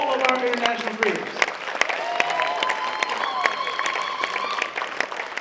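An audience at an AI film festival awards show applauds international creators, a dense wash of clapping from a large crowd while a few voices and musical tones carry over it, the clapping rising and then holding steady.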